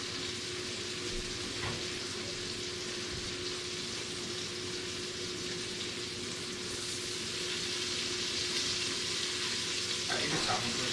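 Vegetables for fish chowder sweat in a hot pan, giving a steady, even sizzle that fills the whole stretch with a soft hiss and barely changes, close by and with no one talking over it.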